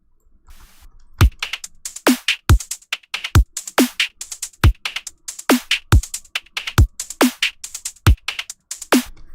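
A hybrid trap beat built from noise-based drums designed in Serum 2, playing as a crisp, rhythmic groove of sharp clicky hits with occasional low thumps and no voices.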